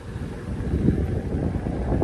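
Low, rumbling buffeting of wind across a microphone outdoors while riding an electric unicycle, continuous and fairly loud, with no voices.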